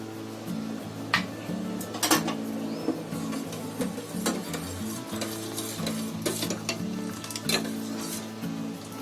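Weight-loss tea bubbles in a pan on a gas stove as milk is added, giving a steady simmering hiss broken by several sharp clinks and scrapes of utensils against the pan.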